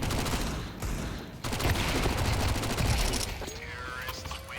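MAC-10 submachine gun fire in CS2, heard as loud rapid continuous bursts of automatic fire over a steady game background, with a voice talking over it.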